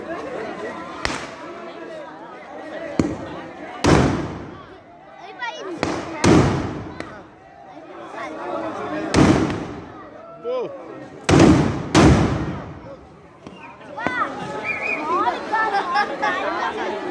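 Firecrackers go off in a series of sharp, loud bangs at irregular intervals, some in quick pairs, over continuous crowd chatter and people talking nearby.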